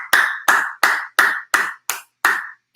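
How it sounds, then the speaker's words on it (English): Seven sharp, evenly spaced claps ring out one after another, loud and close, like a single pair of hands applauding a giveaway winner named Adam, with no voices over them. "Let's clap it up for Adam"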